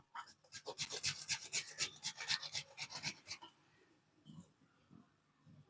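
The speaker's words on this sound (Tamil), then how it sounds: "இதே மாதிரி எல்லாத்தையும் துருவிட்டு காட்டுறேன்" Cassava being finely grated by hand for a cake, a fast run of close, rhythmic rasping strokes for about three seconds, then near quiet with a few faint knocks.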